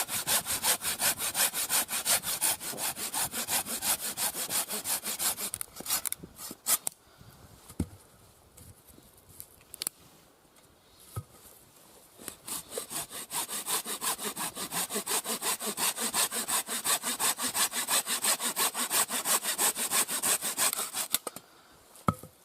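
A bucksaw cutting through a wooden stick outdoors, steady rapid back-and-forth rasping strokes, loud and close, pausing briefly midway before resuming.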